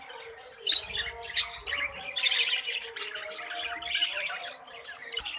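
Many budgies chirp and squawk together in a breeding colony, a dense overlapping chatter of high tweets and sharp calls that carries on steadily without pause.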